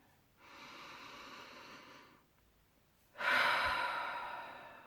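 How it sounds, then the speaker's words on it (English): Slow, deep breathing sounds close up in a quiet room: a long, soft inhale, a short pause, then a stronger, louder exhale that gradually fades. "Take a few deep breaths."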